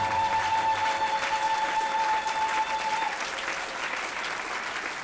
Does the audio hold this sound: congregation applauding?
yes